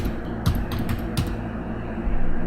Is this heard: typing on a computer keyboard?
yes